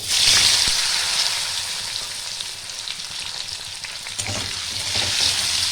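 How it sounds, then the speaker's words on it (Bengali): Potato and elephant foot yam frying in hot oil left over from frying fish, a steady bubbling sizzle with some stirring, close and fairly loud, with no talking. "এই তেলের মধ্যেই আমি আলুটা ওলটা ভেজে নেব"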